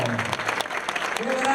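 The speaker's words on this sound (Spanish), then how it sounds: "Un aplauso para Samuel Blanco." Spectators clap for Samuel Blanco, winner of the 2016 Volta Ciclista a Galicia cycling race, in a brief burst of crowd applause with a voice sounding over it near the end.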